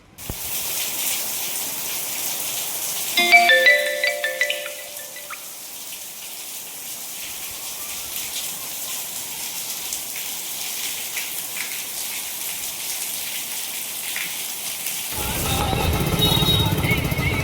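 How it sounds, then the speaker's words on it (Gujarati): Steady rain hissing broadly throughout, with a brief tonal sound early on and a heavier gush of water near the end. "નીચે જવું જ પડશે તાત્કાલિક, કેમ કે વરસાદ ચાલુ થઈ ગયો છે"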